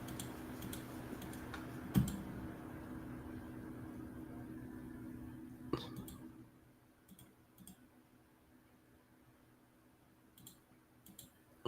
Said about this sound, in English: It's working. I can hear you typing.